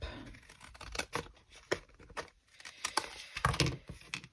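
Scissors snipping through paper strips for festive craft snippet rolls, a string of short, close, crisp cuts in uneven bursts with brief pauses between.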